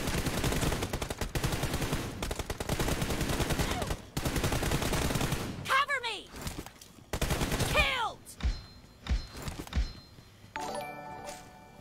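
Rapid gunfire bursts in a shooter video game, dense automatic fire for the first few seconds, then scattered shots with ringing metallic game effects and chimes, with some voice mixed in.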